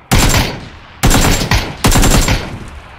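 Video game gunfire rips out in three loud automatic bursts, each a dense rattle of rapid shots that starts abruptly and trails off, close and alone with no voices.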